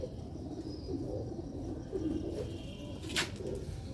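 Soft, low cooing of Sialkoti pigeons, a few murmuring coos over quiet background noise, with a brief rustling burst near the end.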